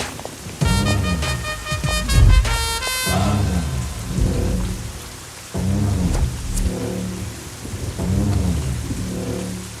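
A heavy night thunderstorm: steady loud rain pours down while thunder rumbles and cracks repeatedly, with louder bursts recurring every few seconds, and no voices over it.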